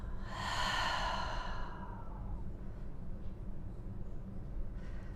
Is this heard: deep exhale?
yes